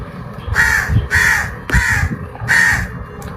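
Four loud, harsh crow caws ring out nearby in a steady rhythm, each a drawn-out rasping call separated by brief pauses, with no talking over them.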